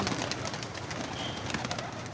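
Pigeons sit and coo at a Lahore bird shop, brief soft cooing calls over a dense, noisy background of shop bustle.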